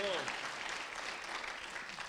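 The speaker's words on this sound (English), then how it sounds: "Come on, clap one more time." Church congregation clapping in praise, a soft sustained patter of many hands under a voice at the start, somewhat distant and faint.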